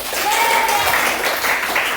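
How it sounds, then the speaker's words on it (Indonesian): Pupils in a coding and artificial intelligence class clap together in a loud, close, continuous patter, with a brief whistle-like tone and some voices mixed into the noise. "Tepuk tangan dulu."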